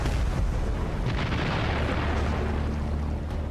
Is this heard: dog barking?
no